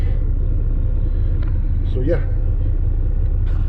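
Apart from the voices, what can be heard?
truck engine rumbling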